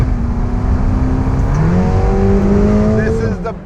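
Ferrari Portofino V8 engine revs up under acceleration, a loud, close, rising growl whose pitch steps upward through the gears over a few seconds before easing off near the end.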